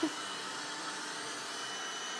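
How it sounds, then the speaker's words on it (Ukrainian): A robot vacuum cleaner runs with a steady, faint whirring hum that holds evenly from start to finish. "Бачу, що пилосос мучиться, але щось там робить."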